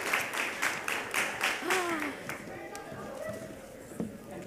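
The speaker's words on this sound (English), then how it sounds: "Big round of applause." Audience applause at a young writers' conference, a burst of clapping in the first two seconds that fades into scattered claps, with a voice speaking over it.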